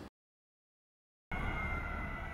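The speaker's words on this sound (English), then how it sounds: "Red lights flashing, sirens blaring." A steady, wailing EMS emergency siren cuts in abruptly after a moment of silence, continuing loud and unbroken under traffic rumble.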